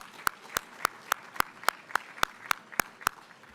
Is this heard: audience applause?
yes